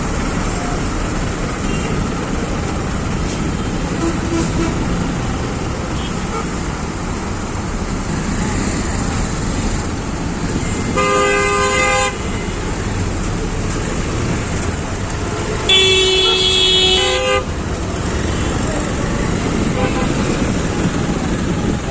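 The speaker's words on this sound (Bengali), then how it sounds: "ঢাকার বাইরে অনেকেই যাওয়ার জন্য এই রাস্তাটা ব্যবহার করেন, এই কারণে খুব বেশি জ্যাম" Congested road traffic on a busy route out of Dhaka, a continuous dense rumble of engines with a couple of brief horn blasts rising above the noise.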